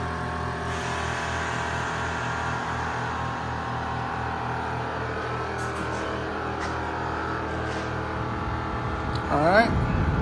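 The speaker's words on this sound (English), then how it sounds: "I'm gonna let the compressor stop" An air compressor in a home garage, used during front suspension work on a Chevrolet C3500 truck, runs with a steady loud motor drone and rhythmic pumping before winding down near the end.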